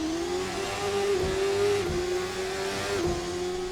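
A race car launches at a race restart in St. Pete, its engine holding a loud, steady high drone with brief dips as it shifts, close and continuous.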